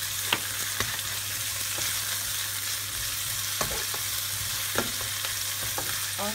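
Leek and bean paste sizzle steadily in hot oil in a wok, with scattered scraping clicks from the stirring utensil over a constant frying hiss and a low hum.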